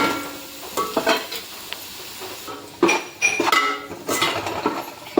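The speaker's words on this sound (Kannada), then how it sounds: "ಈರುಳ್ಳಿ ನೋಡಿ ಎಷ್ಟು ಚಂದ ಫ್ರೈ ಆಯಿತು." Frying onions for chicken biryani are stirred in a pan, giving soft sizzling under repeated scraping and clinking of a spoon against the metal, close and fairly quiet.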